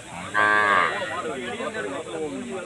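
A cow at a Tamil country cattle market moos once, loud and close, a drawn-out harmonic call, followed by a busy crowd murmur and distant voices of buyers and sellers.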